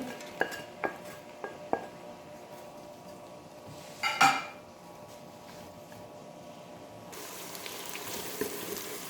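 Chopped onions go into hot ghee in a pot on a stove while cooking meat, with a few sharp clinks of utensils against the pot, then a soft sizzle and faint rattle close by.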